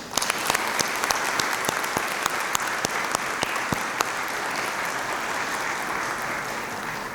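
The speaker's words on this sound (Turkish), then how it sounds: "Avadis'i alkışlayalım" An audience claps steadily through a ceremony in Turkey for an honorary doctorate at Istanbul Technical University, with sustained, even applause and a few sharper individual claps standing out near the start.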